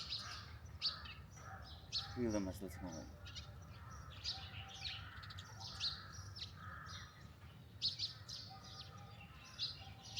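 Small sparrows chirp and tweet in short bright bursts outdoors on a mountain morning, scattered through the clip, with a voice talking over them.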